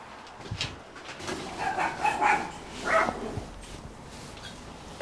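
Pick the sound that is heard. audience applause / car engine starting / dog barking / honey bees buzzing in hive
dog barking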